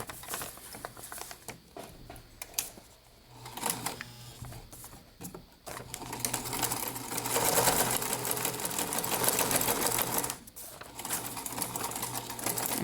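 A sewing machine stitches through a folded paper junk journal page, its fast steady needle patter running close and continuous, briefly pausing and restarting as the page is guided along.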